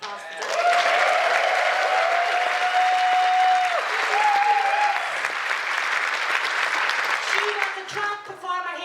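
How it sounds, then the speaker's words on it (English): A theatre audience applauding a drag performer at a roast in the Abbey Theatre, steady loud clapping with cheering and a whooping voice above it, tapering off near the end as talk returns. "give her a round of applause for that"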